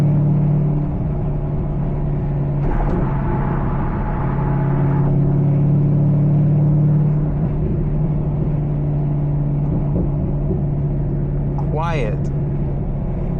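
Cabin of a C5 Corvette on the road, a steady low engine drone and tire rumble with a brief swell in the middle, under someone talking throughout.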